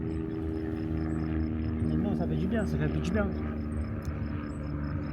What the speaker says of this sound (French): là, il y a les bruits d'hélicoptères